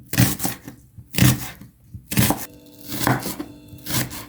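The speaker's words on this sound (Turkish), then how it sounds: "Soğanlarımızı da aynı şekilde böyle doğruyorum." Onions being chopped with a knife on a board: four crisp, evenly spaced cutting bursts at a slow rhythm, close and clear with no talk over them.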